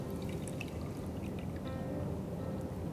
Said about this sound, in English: What I'm doing is I'm going to pour this mixture in a bake-proof dish.